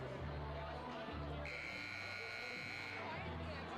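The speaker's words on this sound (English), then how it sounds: "There's the buzzer" A loud electronic buzzer blares for about one and a half seconds amid continuous crowd noise and chatter at a high school boys' varsity basketball game.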